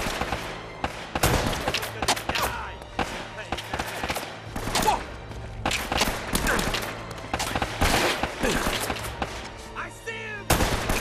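Rapid bursts of video-game gunfire from Uncharted: Drake's Fortune crackle in repeated volleys across the whole span, loud and close, with someone shouting excitedly over the shooting.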